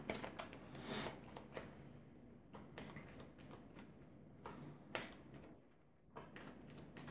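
Cards from a zombie board game deck being shuffled at close range in a quiet room, with several soft riffling bursts separated by short pauses.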